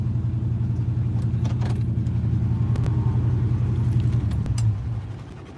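A car engine with a failing transmission runs steadily with a loud, low rumbling drone and faint rattles, then the sound drops away near the end.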